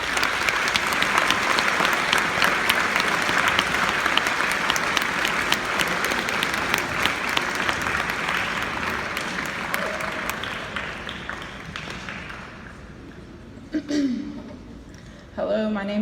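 An audience welcomes a speaker at an event on teen drinking and driving, with sustained dense applause that fades out over the final seconds before she begins to speak.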